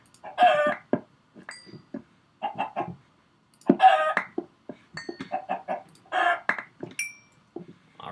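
Minecraft chickens clucking in short bursts with pauses between, a few sharp squawks mixed in, clear and close with no background noise.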